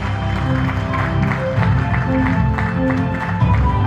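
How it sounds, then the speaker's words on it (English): Steady applause from a crowd, sustained clapping filling the whole stretch without pause. "Come on, huge round of applause for Shri Anil G Hazare."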